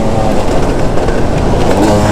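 A Yamaha YZ250 two-stroke dirt bike engine lugs at low revs in fourth gear. It gives a loud, deep, rumbling drone close to the rider, with wind buffeting and no clear rev changes.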